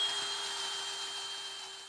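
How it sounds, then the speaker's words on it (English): A power drill bores holes along a wall inside an off-grid home, opening a path up to a panel; a steady, fairly loud whine with a hissy edge runs unbroken for the whole stretch, with no voices. "So we're gonna drill some holes along here so we can get up into that panel."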